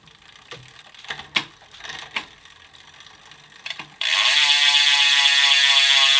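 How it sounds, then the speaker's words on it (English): Elite Wheels VELO SIX disc bicycle wheel with a 36-tooth ratchet freehub: a few soft handling clicks, then a sudden loud, continuous high-pitched buzzing ratchet as the wheel freewheels, close and dominant with no speech. "Freehub sound test on these Elite Wheels VELO 6 disc with a 36 tooth ratchet"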